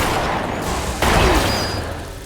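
Rapid video game gunfire rattles in a loud, dense burst, with a sharper crack and boom about halfway through over a continuous roar of shots.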